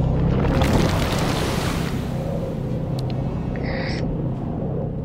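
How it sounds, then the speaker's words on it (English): Water surging and gurgling as waves flood a camp after a dam bursts in the video game Dungeons, a steady broad rushing wash that is loudest early on, with faint high tones near the end. "the Alliance's camp disappeared under waves of water with a very satisfactory gurgling sound"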